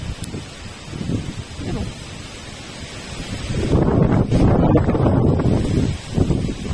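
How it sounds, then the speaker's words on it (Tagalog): Steady wind on a mountain blusters across the microphone, building into a louder rumbling gust midway, with rustling underneath and no talking. "Ang hangin dito guys sa bundok."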